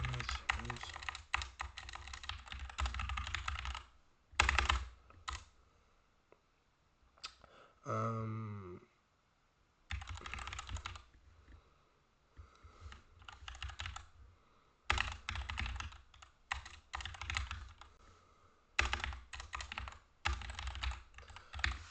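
Typing on a computer keyboard, close clattering bursts of keystrokes separated by short pauses, with a brief voiced sound partway through.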